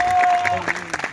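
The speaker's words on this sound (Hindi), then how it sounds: "उसके लिए ग्रेट तालियां बजाओ सब लोग।" Short stretch of crowd clapping from students at a Teacher's Day event, fairly loud and uneven, with a tone and some voices underneath.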